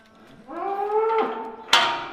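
A bovine at a hoof-trimming farm with bulls and cows gives a single clear, drawn-out moo lasting about a second, followed by a brief sharp knock or clatter nearby.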